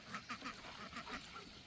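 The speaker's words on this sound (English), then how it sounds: "bring your ducks out, buddy. Cool off in the pond." Ducks quack by a pond, a run of short, evenly spaced calls at moderate distance, fairly soft and with no talking over them.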